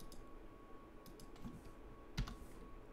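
Faint, sparse clicks of typing on a computer keyboard, scattered light keystrokes with one slightly louder tap, over a quiet room hum and with no talk.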